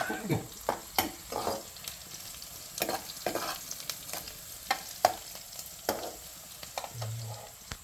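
Prawn curry masala with shallots and tomato fries in a pan, a quiet steady sizzle punctuated by sharp, uneven scrapes and knocks of stirring at close range.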